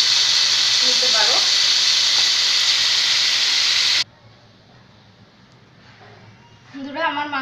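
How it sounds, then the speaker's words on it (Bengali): Chicken meat fries in oil with a loud, steady sizzle for about four seconds, then the sound cuts to a quiet room tone before a voice speaks at the end. "বন্ধুরা, আমার মাংস পুরোপুরি ভাজা হয়ে গেছে।"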